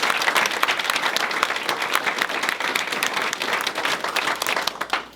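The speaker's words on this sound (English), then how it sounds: "I think, a little round of applause." Audience at a courthouse mural reveal applauds, many hands clapping briskly with individual claps standing out, holding strong before tapering off at the very end.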